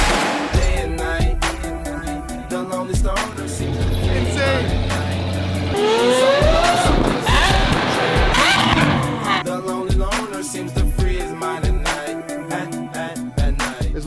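A Lamborghini Aventador SVJ fitted with an aftermarket exhaust system roars loud and close, its engine rising in pitch through revs with sharp pops and crackles, while someone talks over it.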